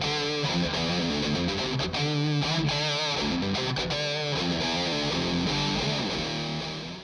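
Distorted electric guitar through a Mesa Mark V amp, miked with an SM57, plays a continuous chugging riff of driven chords and notes, loud and close with a gritty, dense tone and no talking.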